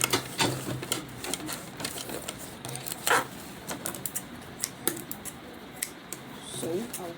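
A sewing machine top stitches a fabric zipper pouch, producing rapid, uneven bursts of clattering needle stitching interspersed with sharp clicks, close and moderately quiet.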